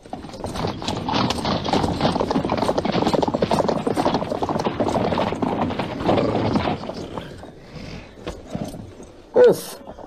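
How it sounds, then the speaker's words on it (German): Galloping horses in a German radio play, hooves pounding the ground of a savanna in a dense rapid rhythm, loud and close, fading toward the end before a short whinny-like cry. "die mit ihren Hufen den Boden der Savanne pflügen"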